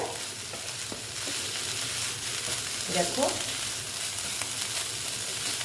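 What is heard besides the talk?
stem amaranth greens sizzling as they fry in a pan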